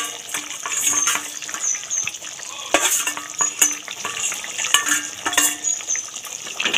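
Rohu fish curry bubbling and simmering in a pan, a steady close sizzle and bubbling with a few louder stirring clatters against the pan, no talk.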